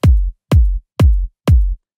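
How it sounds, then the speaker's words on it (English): Deep sub kick drum from a piano house beat, four evenly spaced boomy hits about half a second apart, each with a long low tail, loud and alone. "We've got a sub kick."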